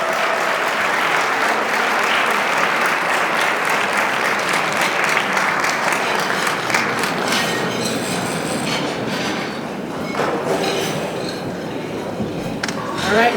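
A large gala audience celebrating the DuSable Heritage Association's 25th anniversary in Chicago gives Mayor Brandon Johnson loud, sustained applause, a dense wash of clapping that holds steady throughout and swells again at the end.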